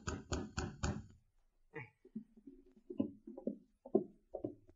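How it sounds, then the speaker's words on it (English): A knock on a wooden cabin door in an old-time Yukon radio drama: four sharp, evenly spaced raps close up, followed by quieter, softer sounds. "he heard a knock on the door"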